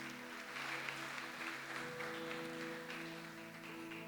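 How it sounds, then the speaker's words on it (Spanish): Faint clapping from a church congregation, steady and distant over a soft background hum and tones, lasting about four seconds. "Dele un aplauso al Señor ahí"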